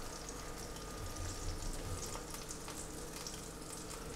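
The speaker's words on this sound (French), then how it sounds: "On ajoute les boulettes." Beef meatballs go into a pot of spicy Mexican soup simmering on reduced heat, making a faint, continuous bubbling and sizzling wash.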